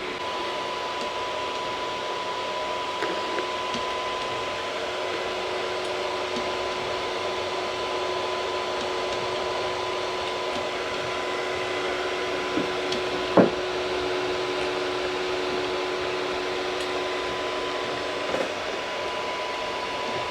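A steady mechanical whir with a faint high whine runs evenly throughout, like a 3D printer at work, with an occasional soft click.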